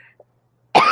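A loud, close cough bursts out near the end after a near-silent stretch, a single harsh rasping fit lasting a fraction of a second.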